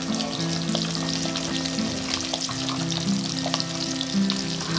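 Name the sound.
pabda (butter catfish) frying in white oil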